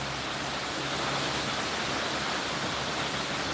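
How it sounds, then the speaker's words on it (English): Heavy rain pouring down outdoors, a steady, dense broadband hiss that holds at an even level throughout with no voices over it. "Can you guys hear the rain?"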